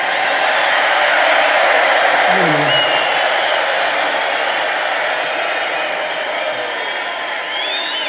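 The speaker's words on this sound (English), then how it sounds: "This is a feisty little crowd" A rally crowd in a massive stadium in Allentown, Pennsylvania, roars with sustained cheering and applause, a dense, loud wash of noise that holds steady throughout.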